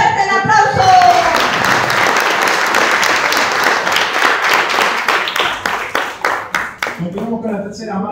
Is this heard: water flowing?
no